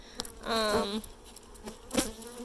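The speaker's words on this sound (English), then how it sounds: "The bees are getting a little agitated." Agitated honey bees buzz close at a hive during re-queening, with a sharp rising whine lasting about half a second, then scattered shorter buzzes and another quick pass near the end.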